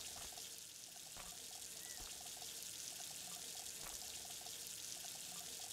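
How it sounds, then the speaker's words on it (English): Water pours steadily into a bucket outdoors, a continuous splashing rush with faint clinks now and then, close and fairly loud with no talking. "All right, bucket's full of water."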